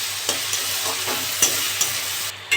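Prawns frying in a pan for a banana flower and prawn dish: a continuous close sizzle broken by several quick stirring scrapes.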